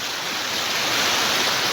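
Water pouring from a pond overflowing after heavy rain, a loud, continuous close rush of flowing water with no breaks or voices.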